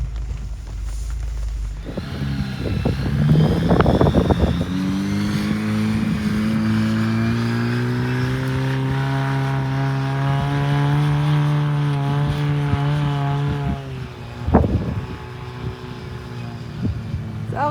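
A car engine revs loudly and holds a steady drone with rising harmonics, part of a club off-road outing toward Gareji. Brief knocks and clatter come near the start and again near the end, and there is no talk.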